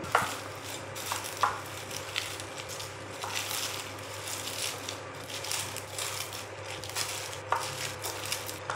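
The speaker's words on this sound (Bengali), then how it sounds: "এবার একটু হাত দিয়ে ভালো করে মেখে নেবো।" Kolkata-style churmur chaat mixed by hand with fried spices and coriander leaves, giving a continuous, close crunching and rustling of crushed crisp pieces with no talk.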